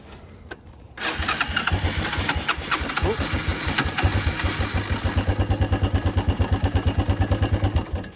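A Suzuki ATV engine, fed brake cleaner through the air intake, cranks and catches after a second of near silence. It then runs loud and close with a steady, rapid pulsing idle.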